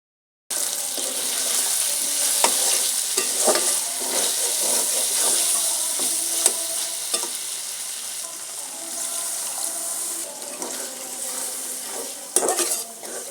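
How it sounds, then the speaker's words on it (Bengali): Pigeon meat stir-fried in a pan gives a steady loud sizzle that runs throughout, broken by scraping, clinking stirring strokes at irregular intervals, close up with no talk. "তো আমি ভালো করে কষিয়ে নিলাম একটু সময় নিয়ে।"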